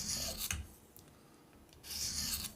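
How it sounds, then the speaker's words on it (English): A KME knife sharpener's stone makes two close, rasping passes along a blade edge, each a short gritty scrape with a quieter pause between them. "It's exactly the same with the sharpener, except that the stone is moving, not the blade. So it's into the edge to cut that burr off."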